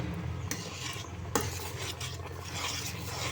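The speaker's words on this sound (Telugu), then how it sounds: "మళ్ళీ ఒకసారి తిప్పండి." A spoon stirs semiya halva with ghee, cashews and almonds in a pan, scraping softly and steadily. A few sharper clinks of metal against the pan rise above the quiet, continuous scraping.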